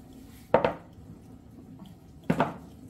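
Garlic, salt and other ingredients drop into a cooking pot in two quick clattering bursts, close and distinct against a quiet kitchen background.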